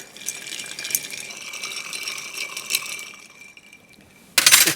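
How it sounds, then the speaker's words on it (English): Ice clinks and rattles as it is stirred in cocktail glasses for a rum martini, light scattered tinkling taps over a few seconds, then a brief louder burst of clatter at the very end. "And we'll ice these down. And give them a stir."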